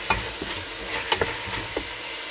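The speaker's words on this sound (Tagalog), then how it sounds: "ilalagay na natin yung ating leeks. At haluin natin mabuti." Leeks being stirred in a pan while cooking for a Filipino mung bean dish, with a steady low sizzle and a few soft scraping knocks of the utensil against the pan.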